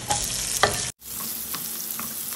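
Garlic and onion sautéing in hot oil, a steady loud sizzle with a few scraping stirs, cut by a brief gap before the frying hiss resumes close by.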